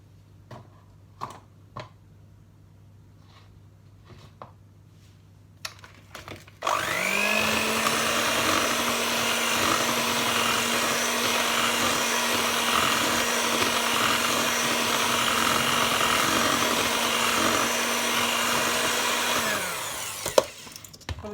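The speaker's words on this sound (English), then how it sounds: "So that's 3 egg yolks, added one at a time while you are whisking the mixture." An electric mixer whirs steadily for about fourteen seconds as egg yolks are whisked one at a time into buttery cookie mixture, starting abruptly after a few soft clatters and cutting off near the end.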